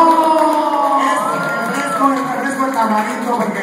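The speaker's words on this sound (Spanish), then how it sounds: "¡Un aplauso!" Crowd cheering and shouting at a First Communion celebration, with loud, continuous, overlapping voices and whoops throughout. Speech is mixed into the noise.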